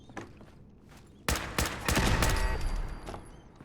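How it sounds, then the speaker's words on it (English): Automated turret gunfire in Fallout 4 erupts as sudden loud bursts of rapid shots, a few sharp volleys first and then a sustained rattling barrage that fades slightly toward the end. "But they were shooting at some turret that got activated."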